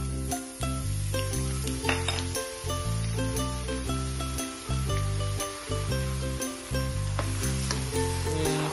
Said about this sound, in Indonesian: Kita akan goreng bawang bombay yang udah dicincang tadi ya.